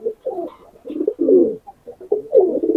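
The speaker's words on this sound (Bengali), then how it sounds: "আমার বাড়ির তৈরি করা কবুতরই" A Pakistani highflyer pigeon coos close by in a series of soft, throaty, rolling calls, several phrases in quick succession with short pauses between them, and no talking.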